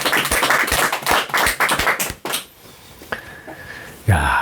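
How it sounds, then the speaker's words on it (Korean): Audience applause at a Korean Buddhist teaching session rings out densely for about two seconds, then tapers off into a quiet room, and a voice begins speaking. "큰 박수 부탁드립니다"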